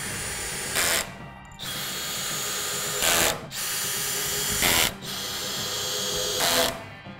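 A cordless drill drives screws into a desk platform in four separate runs, each a steady whirring hum a second or two long ending in a short higher burst, close up.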